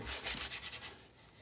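A rasp is drawn lightly across a wooden guitar neck in a few quick rhythmic strokes, close and soft, that fade out at the end.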